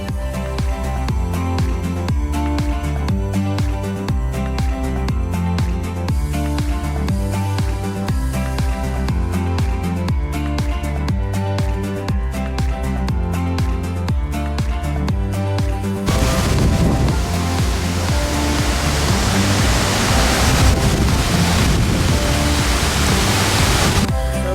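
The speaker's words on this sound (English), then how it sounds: "Another waterfall in Iceland. This one is Seljulenfoss, one of the most popular." Roaring Seljalandsfoss waterfall in Iceland heard from behind the falling water, a loud, steady broadband rush of cascading water that swells even louder partway through, with music-like tonal layers running over it.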